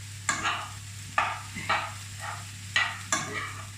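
Sweet potatoes are stirred in a frying pan over faint sizzling, with four scraping strokes in two pairs close by and a low steady hum underneath.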